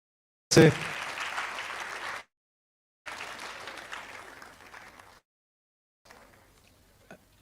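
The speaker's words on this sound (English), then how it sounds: "Please let's give a big round of applause to our chairperson." Applause for the chairperson at a public lecture of the Ghana College of Physicians and Surgeons, breaking out sharply, cutting off, then returning in two shorter, fading bursts separated by silence.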